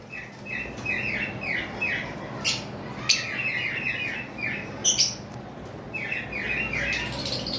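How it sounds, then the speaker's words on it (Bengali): Sun conure parrots at a bird farm give repeated shrill, rasping calls in quick bursts throughout, several birds overlapping, fairly close and loud against a steady background hum. "আমার কাছে দুইটা পেয়ার সানকোনর রয়েছে"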